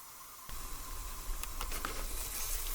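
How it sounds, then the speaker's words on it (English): Water boils in a pot for rosemary rice, starting as a faint hiss and rising into a steady bubbling sizzle with a few sharper pops. "Okay, it's boiling."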